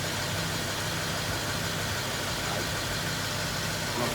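A 2013 BMW X5 50i with the N63 V8 idles steadily after an oil change, a smooth continuous engine drone heard up close with no talk.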